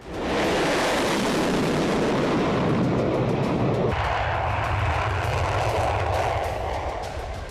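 Russian bomber aircraft engines roar in a loud, steady, broadband drone that fills the whole stretch, close and continuous with a slight shift midway.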